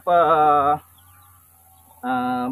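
Backyard farm chickens give two loud, close clucking calls, the first about a second long, then a short pause with a faint low hum before the second call.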